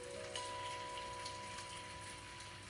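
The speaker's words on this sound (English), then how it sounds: "Stupid rain." Steady rain falls in an animated story, a continuous soft patter and hiss of drops on surfaces, even and moderately quiet with no talking.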